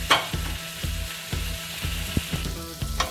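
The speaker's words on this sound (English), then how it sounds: "So the onions have been sauteing for about 5 to 6 minutes on medium-high heat." Onions sauté in a pan over medium-high heat for Karahi chicken, giving a steady close sizzle broken by repeated light scraping and stirring knocks at a regular rhythm.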